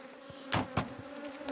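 Honeybees buzzing at a beehive, a steady close hum of many wings with a few louder bees passing near, quiet overall.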